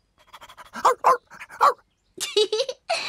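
A cartoon dog in a French-language Oui-Oui children's episode gives a series of short, close, excited yaps and panting bursts, separated by brief pauses.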